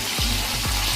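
Ginger garlic paste with fennel seeds sizzles loudly in hot oil in a pan for masala bhindi, a dense steady frying hiss with a couple of soft stirring thuds.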